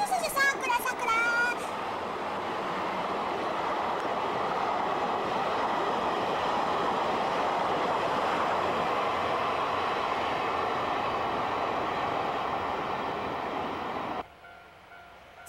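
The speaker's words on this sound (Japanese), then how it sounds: "さはあ、さくらという列車がありますね。" A Sakura express train runs past with a steady, loud rolling rumble and rattle lasting most of the time, with some brief squeals and chatter near the start, then cuts off abruptly near the end.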